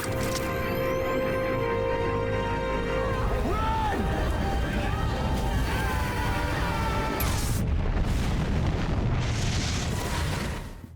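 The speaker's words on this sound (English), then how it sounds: "There's a massive explosion, and the heroic duo barely escapes." Big explosion from The Flash TV series, a loud sustained rumbling blast with crackling debris, fading out near the end, mixed with dramatic score and a narrating voice.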